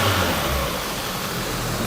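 Peugeot 206 GT engine revving toward 2500 rpm, a loud, steady mid-pitched engine roar heard close for a couple of seconds.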